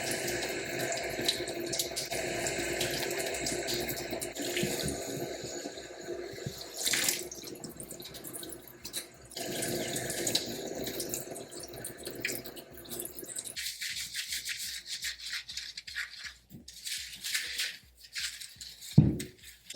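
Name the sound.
water running while washing hair in protective style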